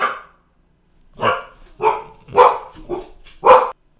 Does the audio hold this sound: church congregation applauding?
no